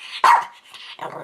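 A puppy gives a short burst of sharp barks, close and loud, with a brief yip and a growly tail end, alone without talk.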